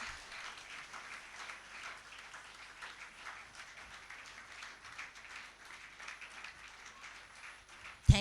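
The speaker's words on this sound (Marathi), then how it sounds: "आपण सर्वांनी टाळ्या वाजवून त्यांचे स्वागत करूया" A church congregation applauds to welcome a couple, steady massed clapping filling the whole stretch at moderate distance, with a sharp louder burst right at the end.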